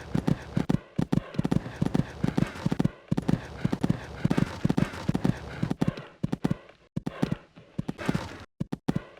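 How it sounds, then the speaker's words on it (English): A horse gallops in the Equestriad 2001 video game, its hooves thudding in a quick, steady rhythmic clip-clop, close and loud, with a few brief pauses near the end. "And galloping along nicely now."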